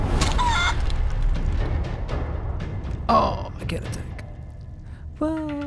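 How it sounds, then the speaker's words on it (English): Chicken in Divinity: Original Sin 2 giving a short burst of clucks at the start, with a few further squawks later over game noise and a sigh-like sound near the end. "Chicken!"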